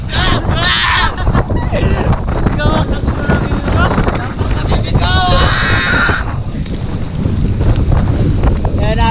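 Powerful typhoon wind buffets the microphone while large waves crash and churn close by, a loud, constant roar that swells in gusts, with a voice speaking partly under it.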